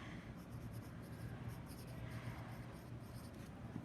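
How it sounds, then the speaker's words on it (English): A wood pencil writes a name on paper, making a soft, continuous scratching with small rhythmic strokes, faint and close with no talking. "we're first going to get started by writing our name on our paper"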